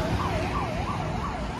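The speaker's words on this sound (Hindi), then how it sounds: "उधर से एम्बुलेंस जा रही है, एमरजेंसी एमरजेंसी," An ambulance siren on a road wails in a steady rising and falling cycle, loud and close over rumbling traffic noise as the emergency vehicle overtakes.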